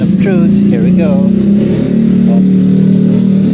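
Kawasaki ZX4RR motorcycle engine running after a noisy cold-start fix, a steady close idle with a couple of brief revs early on, and a voice talking briefly over the first second.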